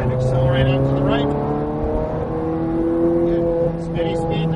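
A Ferrari 430 Scuderia accelerates out of a corner on a racetrack, its engine note climbing in rising harmonic sweeps, loud and close, with an instructor's voice talking over it.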